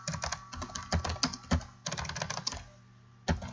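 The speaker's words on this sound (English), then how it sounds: "Excuse my typing here." Computer keyboard typing in bursts of quick, irregular keystrokes, with a brief pause near the end before a final clatter, close and clear with no talking.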